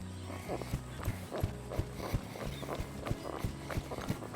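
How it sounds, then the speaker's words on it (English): A young horse being started under saddle moves at a jog and then an easy lope, its hoofbeats landing in a steady, rolling clip-clop rhythm close by. Soft background noise and faint voices sit under the footfalls. "he stepped up into a jog on his own. Stepped up into a lope real easy."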